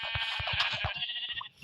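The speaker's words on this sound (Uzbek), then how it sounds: "Mana bu yerda qo'ylar." A Minecraft sheep gives a short, nasal, wavering bleat up close, clear and alone for under two seconds.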